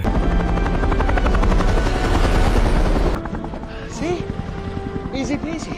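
A helicopter in an action film thumps with steady rapid rotor chop for several seconds, loud and close, then drops lower under a voice talking.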